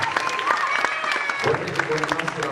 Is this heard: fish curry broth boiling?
no